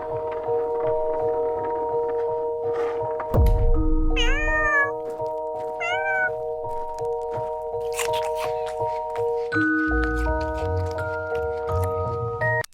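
Pet cats meowing over a steady background of held musical tones, several distinct meows with rising and falling pitch spread across the stretch, fairly close and clear.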